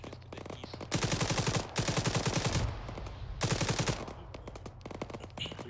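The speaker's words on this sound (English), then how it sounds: "There is fire coming from the northeast." Automatic gunfire in the Arma 3 military shooter: loud, rapid bursts of machine-gun fire repeat with short pauses, backed by scattered distant shots throughout.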